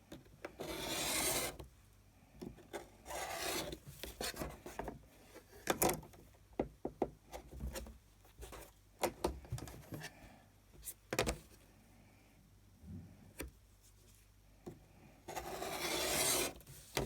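Fabric for a rainbow quilt is cut on a small cutting mat with soft scraping strokes, scattered knocks and rustles, and bursts of louder rasping at the start and end.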